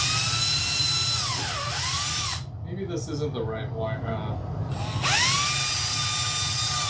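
A small electric drill whines at high pitch while boring into a model railroad layout. It runs in two bursts, near and loud, with someone talking in the quiet gap between them.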